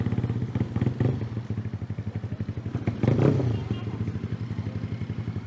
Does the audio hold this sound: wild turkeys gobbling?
no